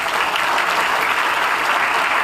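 Loud, dense audience applause at a party workers' meeting in Rewa, a sustained wash of many hands clapping close and evenly throughout, with no talk on top.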